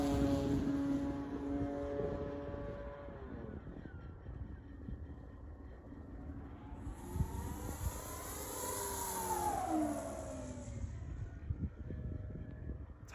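A Hangar 9 10cc J-3 Cub RC airplane's engine buzzes steadily in flight, its pitch climbing and falling as the plane pulls up and sweeps past, loudest near the end, with no voices.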